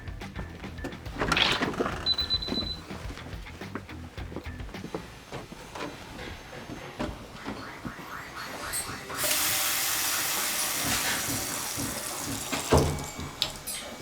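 Water gushes from an opened hot water line on a home water heater, a steady broad rush starting partway through and running loud and continuous to the end, after scattered clanks and handling noises.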